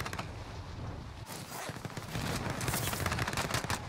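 Rapid automatic gunfire in Call of Duty Warzone, set in Verdansk, rattles in quick bursts and grows louder and denser toward the end.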